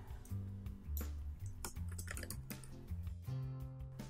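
Keystrokes on a computer keyboard while an email field is typed in, a steady run of close clicks and taps over a few seconds with no talking.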